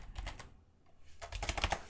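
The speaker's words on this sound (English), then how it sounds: "So I'm going to start typing in name." Rapid keystrokes on a computer keyboard while entering data into an Excel UserForm, close and crisp, in two quick bursts separated by a short pause.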